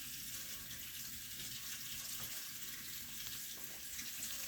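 Steady broadband rush of water pouring from a kitchen faucet into a sink, run until steaming hot, continuous and fairly close, with no voices.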